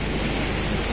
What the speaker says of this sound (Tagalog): Grabe. Ang lakas ng ulan mga katrops.